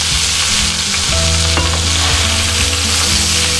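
Pork belly sizzling in a pan with glaze gives a loud, dense, unbroken sizzle, with overlapping tonal squeaks and scraping from the pan as the meat is turned.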